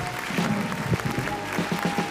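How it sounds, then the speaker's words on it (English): Brief applause, a few hands clapping in a moderate patter against background hum, short and fairly close. "The applause is too much. It's overwhelming."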